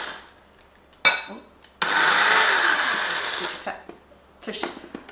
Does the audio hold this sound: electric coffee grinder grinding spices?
yes